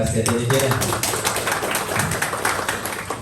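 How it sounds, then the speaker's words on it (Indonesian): Audience applause at an Ogoh-Ogoh competition in Ungasan, dense and steady for about three seconds, with a crowd murmur and a little background chatter mixed in. "Aplaus kemudian"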